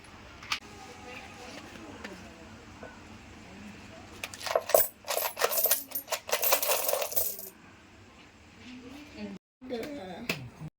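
A box of old Travancore-era coins is opened, followed by a burst of bright metallic clinks and jingles in the middle of the clip, with quieter handling sounds before and after.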